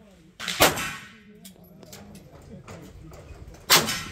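Two sharp pistol shots ring off a steel gong target at an outdoor range, each a crisp crack with a bright metallic clang, spaced about three seconds apart, with quiet talk in between.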